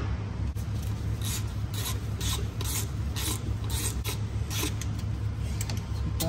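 A hose clamp tool and vice grips work a fuel bowl hose loose on a 24v Cummins, with rhythmic ratcheting, scraping and rubbing metal clicks repeated close up, no talk.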